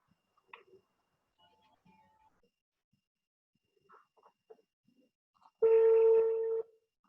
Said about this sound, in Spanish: Ahí te estoy llamando por teléfono